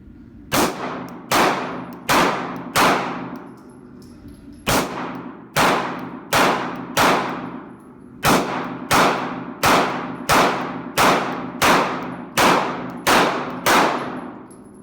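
A Glock 19X handgun is fired at an outdoor shooting range, its loud, ringing reports coming in quick clusters of shots separated by short pauses, around seventeen in all, with no talking.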